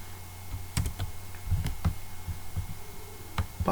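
Keystrokes on a computer keyboard as a localhost address is typed into a browser, a scattered run of soft, close clicks with uneven spacing over a low steady hum.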